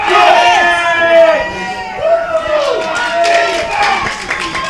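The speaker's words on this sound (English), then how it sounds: "Chorley crowd trying to get their Bucks back in this game." Crowd of Chorley Buccaneers supporters at a BritBowl under-13 American football final cheers and shouts from the stands, a steady busy roar with scattered clapping and yells rising and falling throughout.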